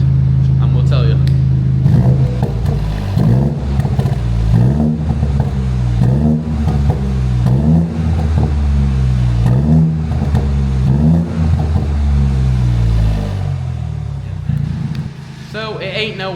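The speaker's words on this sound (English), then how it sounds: "It's got a little bit of a burble on overrun, on downrun, but it's not crazy loud" A BMW 1 Series F20 with an M140-style exhaust revs repeatedly from a small engine, loud and close, in rhythmic rising and falling pulls with a throaty note and a slight burble as it settles.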